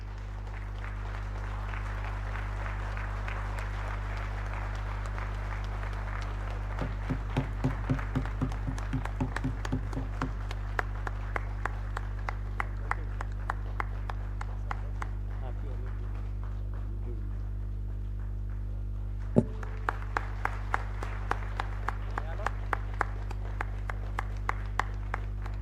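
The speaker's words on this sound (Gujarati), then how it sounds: "આપણે ઊભા થઈને 2 મિનિટ માટે એમને તાળીઓ" Rhythmic clapping from a standing audience honouring the managing director at the Dudhsagar Dairy annual general meeting in Mahesana, steady and sustained under a constant low hum, with a brief sharp thump partway through.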